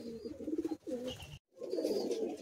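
Andhra pigeons coo in a few rolling, close bursts that are broken by a short pause, with a faint higher twittering above them.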